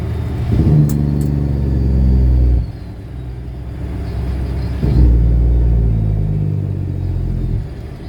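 A heavy logging truck rumbles past on a rural road, its deep engine swelling loud and close, easing off, then surging again as it moves by.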